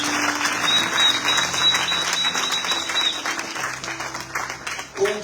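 A church congregation applauds continuously, dense clapping that swells and holds for several seconds, with a sustained musical tone running underneath and a brief pause near the end.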